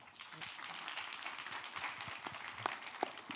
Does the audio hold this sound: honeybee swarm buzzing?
no